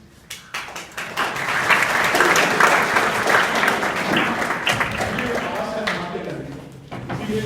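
Children clap together in a school classroom in Azamgarh, Uttar Pradesh, producing a dense, sustained patter of hand claps that swells and holds for several seconds before thinning out, with some voices mixed in.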